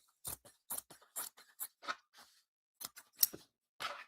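Scissors snip through fabric in a quick run of crisp, close cuts, roughly a dozen separate snips with a short pause midway, alone in a quiet room.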